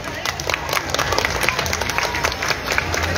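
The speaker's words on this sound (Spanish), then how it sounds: "démosle un fuerte aplauso" Steady applause from a large carnival crowd, dense and continuous throughout, with a faint cheer mixed into the clapping.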